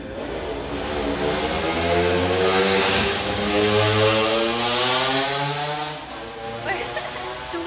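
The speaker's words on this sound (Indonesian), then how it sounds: "aku kesel banget kalau ada motor yang kayak gitu suaranya" A loud motorcycle engine drones close by with a rising, rasping whine that holds steady and then fades slightly as it passes, with faint voices in the background.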